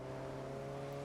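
An Alpine car engine in the video game Test Drive Unlimited Solar Crown holds a steady, even hum, a droning tone with no rise or fall over a short moment.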